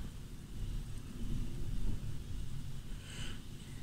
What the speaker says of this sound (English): It's literally just a massive, like, storm.